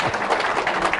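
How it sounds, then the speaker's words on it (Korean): Audience applause at a Saturday lecture hall event, a brief dense wash of clapping from a crowd, steady and moderately loud for about a second. "박수."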